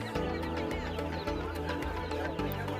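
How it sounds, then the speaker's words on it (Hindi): Many small chickens' chicks peeping constantly in high, overlapping chirps at a pet market, with a low hum and clatter underneath, busy and close. "ये देखिए मुर्गी के कितने प्यारे क्यूट छोटे छोटे बच्चे, यानी चिकन"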